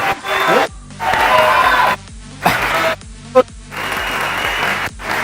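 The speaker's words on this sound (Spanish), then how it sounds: "Un fuerte aplauso para César." A seminar audience bursts into loud applause and cheering for a guest named César, in several strong surges separated by sharp breaks, with shouts and whoops rising over dense clapping.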